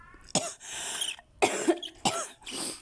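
Three or four sharp, harsh coughs in quick succession, close and fairly loud, each followed by a brief raspy exhale.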